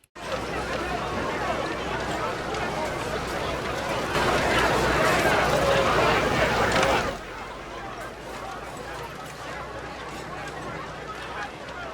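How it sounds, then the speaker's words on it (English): Battle attack din, a dense wash of crowd chatter, shouting and rushing noise, swelling briefly louder midway before dropping back to a steady background roar. "you can also hear the chatter and noise of the attack kind of happening in the background"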